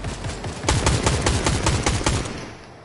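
Rapid bursts of heavy-recoil gunfire crack out close and loud, about a dozen sharp shots in quick rhythm before fading, with no talk over them.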